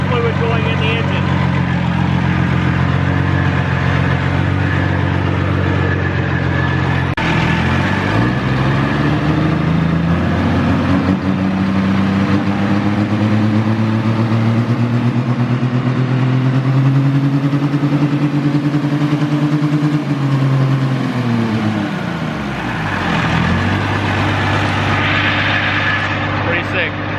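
A pro diesel pulling tractor engine runs loudly on start fluid, a steady heavy drone that rises and sweeps in pitch midway as it revs up, then settles back down.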